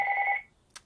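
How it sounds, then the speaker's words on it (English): A phone rings with a short electronic double-tone burst that stops abruptly, followed by a faint click, heard close and alone without talk. "My phone doesn't ring until right now."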